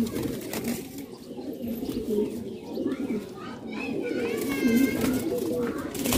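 Fighter pigeons kept for sale, red Shirazi types among them, coo in soft repeated rolling calls close by, with someone speaking over them and faint chirps in the background.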